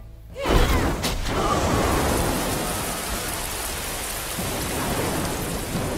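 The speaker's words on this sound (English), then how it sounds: "Now the rain of fire." Rain of Fire spell from the Ardent Mages in Endless Legend, a broad roaring hiss like a heavy downpour with a thunder-like low rumble, swelling after a soft start and holding steady and loud throughout.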